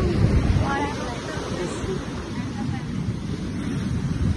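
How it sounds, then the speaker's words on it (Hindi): Strong sea waves crash and wash against the shore at Somnath, Gujarat, a loud continuous roar of surf mixed with wind buffeting the microphone, running steadily throughout with no talk. "बहुत तेज लहर है"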